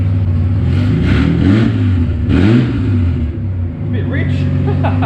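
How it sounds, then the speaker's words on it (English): A budget drift car's engine revs loudly in a garage while running very rich, its deep rumble swelling and falling through two strong rev surges, with people talking over it. "Running very rich."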